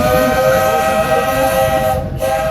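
Walt Disney World Railroad steam locomotive at a Magic Kingdom station, its whistle sounding a loud, sustained tonal blast over rumbling train noise, close by.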